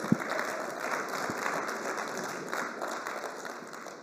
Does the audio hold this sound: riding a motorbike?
no